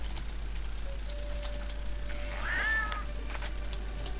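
Angry kitten from the video game No One Lives Forever 2 gives one short, strained meow partway through, heard alone over a faint steady hum with light ticking.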